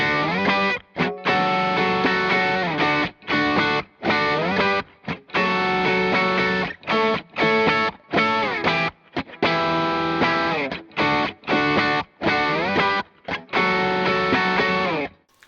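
Electric guitar played through an Origin Effects Halcyon Tubescreamer overdrive pedal, a string of driven chords and notes with short stops between phrases, loud and close, no talking.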